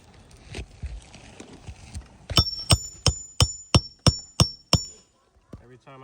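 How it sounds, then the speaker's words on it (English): A hammer strikes an asphalt roof shingle in a run of about seven sharp, evenly spaced knocks, ringing slightly and close by, after some softer shuffling taps. "Every time I hit it with the hammer,"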